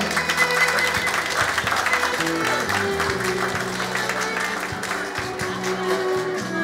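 A crowd at a Turkmen wedding evening claps warmly for the mothers, dense steady applause lasting several seconds with faint music underneath.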